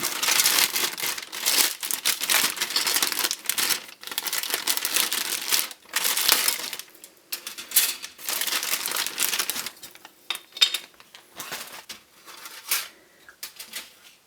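Loud plastic crinkling and rustling in irregular bursts as a sealed bag holding parts frames of a Hasegawa plastic tank model kit is torn and pulled open up close, quieter handling toward the end.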